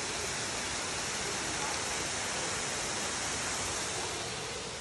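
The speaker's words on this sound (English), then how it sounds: "How do you feel about the waterfall?" A waterfall in the Hoh Rainforest roars as a steady, broadband rush of falling water, continuous and fairly close with no breaks.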